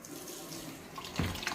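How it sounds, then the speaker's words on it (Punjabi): Tap water gushes into a homemade makeshift kitchen sink during a DIY renovation, starting abruptly near the end as a close, steady splashing flow after a quiet room background. "ਤੂੰ ਟੂਟੀ ਖੋਲੋ"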